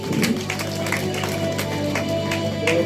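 Steady applause from the audience at an award ceremony in Chennai, many hands clapping in a dense continuous patter, with a murmuring crowd mixed in and no pause.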